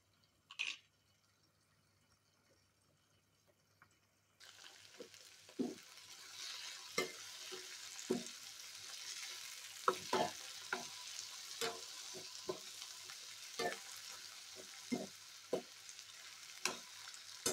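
Sliced brinjal frying in a pan is stirred at intervals, producing a soft, steady sizzle broken by repeated scraping and clinking strokes of the spoon. The sounds are close and fairly quiet, with no talk.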